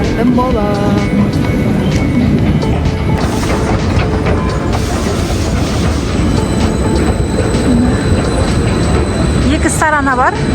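Metro train ride in Izmir: a continuous loud rolling roar with rhythmic clatter, brief tonal chimes or voices beneath, and a sharp rising wheel squeal near the end.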